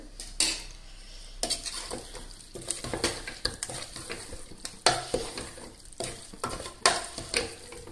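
A spoon scrapes and clinks through parboiled rice in a metal pot as salt and turmeric are mixed in for a meat rice biryani, with a run of irregular close stirring knocks and scrapes and no voices.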